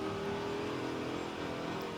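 A Ford Mustang in Forza Horizon 5 holds its engine high in the revs, a loud, continuous whining drone that barely varies, close and alone without speech.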